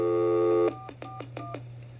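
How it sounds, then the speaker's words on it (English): Telephone tones on a 1980s radio broadcast: a steady dial tone, then a quick run of six or so short touch-tone beeps, clear and close with a low hum underneath. "So let's give her a live phone call now."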